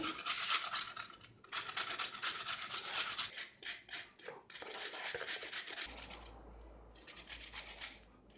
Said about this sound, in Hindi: अब मैं कद्दूकश करके इस बैटर के अंदर ऐड कर रही हूँ